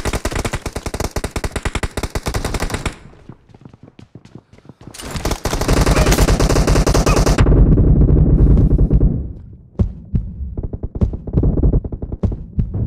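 Rapid automatic gunfire in an arena shooter mobile game, loud dense bursts with a short pause, then a heavy sustained roar and scattered single shots trailing off.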